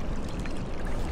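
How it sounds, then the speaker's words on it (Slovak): A small stream, likely a waste outflow, runs near the Hričov reservoir on the Váh river, giving a continuous dense pouring, rushing sound, loud and close throughout. "To bude nejaký potok, čo ide z Očiarska alebo skadiaľ."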